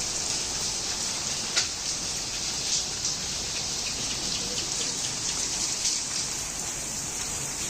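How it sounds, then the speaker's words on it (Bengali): Heavy rain pours down steadily outside an open main door during a lockdown in Munshiganj, a dense continuous hiss with scattered louder drips and splashes, no voices. "এই যে দেখো, প্রচণ্ড বৃষ্টি হচ্ছে, মানে ঝুপঝুপিয়ে যে নামছে"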